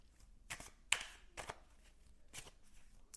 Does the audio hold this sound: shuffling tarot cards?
yes